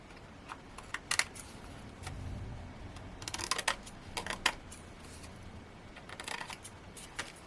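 Scissors snip into a handmade greeting card to trim away its edge pips during cardmaking, giving a few irregular, close, crisp cuts and paper rustles over a quiet room, with no talk.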